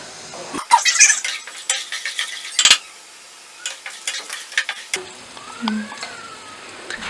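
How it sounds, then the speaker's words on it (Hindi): Dry fruits sizzle in hot oil for suji halwa, bright crackling fry bursts close up with scraping stirs, then a quieter stretch of light sizzle and clinks. "ये जो ड्राई फ्रूट जो है वो फ्राई हो चुके, अब मैं इसे निकाल रही हूँ।"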